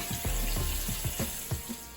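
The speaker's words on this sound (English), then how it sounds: "you want to just give them a good rinse to rinse off any of the dirt" Tap water runs and splashes over sweet potatoes as they are rinsed in a kitchen sink, a close, steady stream broken by repeated sloshing bursts as the potatoes are turned under the flow.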